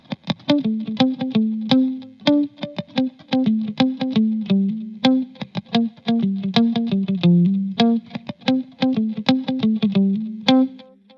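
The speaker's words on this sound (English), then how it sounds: "there's a fourth guitar in the back that is playing kind of a single note line" A clean electric guitar picks a single-note chord-tone line, plucked notes in a steady, repeating pattern with light effects, played alone.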